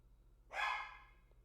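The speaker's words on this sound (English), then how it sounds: "Don't know why the dog is barking" A single dog bark, fairly loud and close, rising out of a low steady hum in the middle of a football match broadcast and fading quickly into the background.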